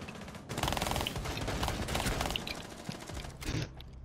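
Sustained automatic SMG fire in Rainbow Six Siege, a loud dense burst of rapid shots running nearly continuously for about three seconds, with a brief break and a final short volley near the end.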